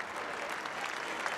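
Crowd at a state high school boys basketball championship applauding student honorees, a brief steady rush of many hands clapping, fairly faint and distant in a large arena.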